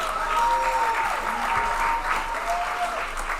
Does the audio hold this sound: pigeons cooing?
no